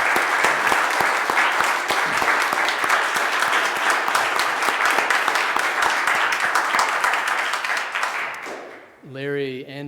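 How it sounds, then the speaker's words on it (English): Sustained applause from a church congregation at an annual meeting, loud and steady for several seconds before fading as a voice begins speaking. "Let's give them a round of applause."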